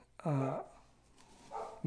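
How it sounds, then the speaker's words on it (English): A single dog bark rings out loudly, followed by a quieter, shorter bark a moment later. "Excuse the dog barking."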